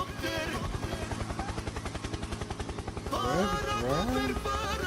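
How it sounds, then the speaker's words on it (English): A video-game helicopter thumps with rapid, regular rotor chops under busy game sounds, joined partway through by swooping tonal effects. "Helicopter, helicopter."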